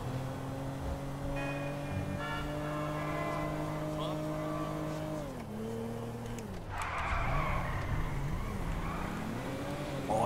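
A car driven in the video game GTA V, a steady engine drone that rises and falls in pitch as it shifts and slows, then rougher road and tire noise later.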